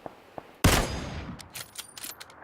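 In the video game PUBG, a sudden loud gunshot cracks out, followed by a scatter of quicker, fainter shots and clicks as it fades.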